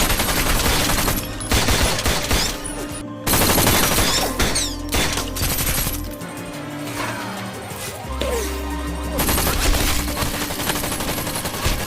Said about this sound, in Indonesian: polisi Sanchez yang kebetulan berada di sana langsung beradu tembak dengan Luke.